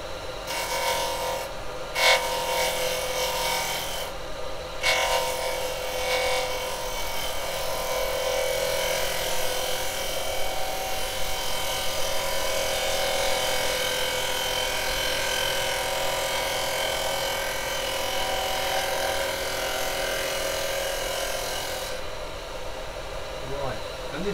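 A wood lathe spins as a carbide tool cuts a wooden tea-light holder, giving a steady, loud rasping scrape that runs almost unbroken for the whole stretch with brief dips, close to the listener.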